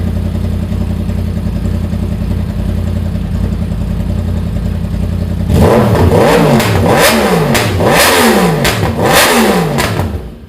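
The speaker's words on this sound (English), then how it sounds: "the best thing about the R1, however, is that sonorous cross-plane crank" A Yamaha R1 motorcycle with a cross-plane crank engine idles with a steady low rumble, then revs loudly through several rising and falling blips, near and alone with no talk.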